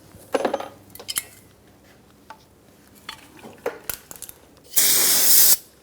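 Cleaner sprayed onto a rear brake caliper of a 2012-2018 Ford Focus, one long hissing burst near the end, after scattered metallic clinks and taps of tools and parts.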